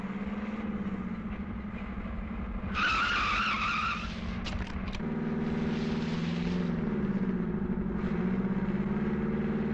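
A car speeds away with its engine droning and its tires screeching in a sharp skid partway through, loud and close, followed by a steady engine rumble, with no speech.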